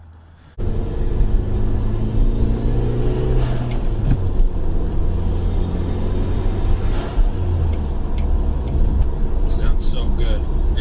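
A Mitsubishi GSX, a DSM car, drives with a steady low engine rumble that rises and falls through gear shifts, close and loud. A voice talks over it.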